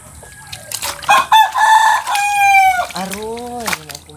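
A rooster crows up close and loud, with clucking fowl around it in a rural daily-routine setting; the drawn-out call rises and falls over about three seconds.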